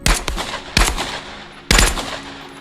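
A gun in a VR shooting game fires in automatic mode: three short, sharp bursts of rapid shots, close and loud, separated by brief pauses.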